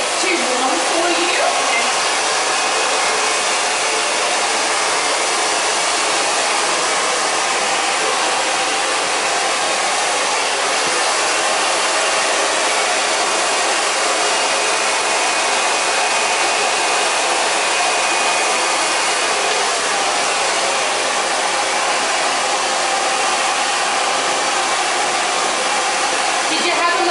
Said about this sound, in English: Just let me know if the dryer gets too warm for you.